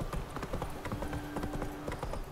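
Horse hooves clip-clop in a steady walking rhythm in The Witcher 3 video game, close and clear over a low ambient game background.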